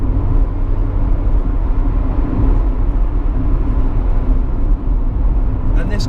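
A Honda Integra Type R is driven on the road. A constant low engine rumble and road noise run loudly throughout, beneath a voice talking.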